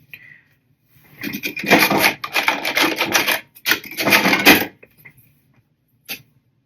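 A sewing machine stitches a label onto a small fabric mini wallet, running in two bursts of rapid mechanical clatter, up close, with short pauses and a quiet click afterward.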